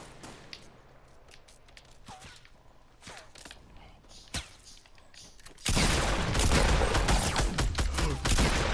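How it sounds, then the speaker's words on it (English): Gunfire in a Fortnite Battle Royale match: scattered sharp shots crack over quiet game ambience, then a dense, loud burst of continuous firing takes over for the last few seconds. "Hear gunshots."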